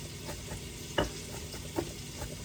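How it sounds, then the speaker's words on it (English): Onion and six cloves of minced garlic stirred in a pot for a veggie stew, with soft scraping strokes over a low steady sizzle and a couple of sharper utensil knocks. "Just give that a little stir."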